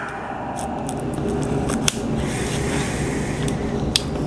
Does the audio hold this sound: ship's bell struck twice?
no